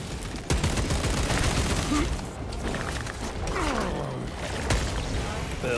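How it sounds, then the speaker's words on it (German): Gunfire in the video game Warhammer 40,000: Space Marine 2, a dense, loud run of rapid shots and impacts with explosions, under game voices and talk. "Schuss."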